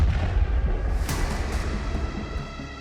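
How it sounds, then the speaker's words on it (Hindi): A tank hit by a Javelin missile blows apart in one blast, heard as a dense, loud low rumble with a sharper burst near the middle that slowly thins out. "पूरा टैंक एक धमाके में उड़ जाता है।"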